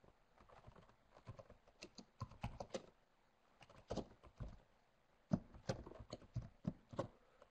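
Code being typed on a computer keyboard, bursts of quick key clicks in clustered runs separated by short pauses, close and fairly quiet with no talk.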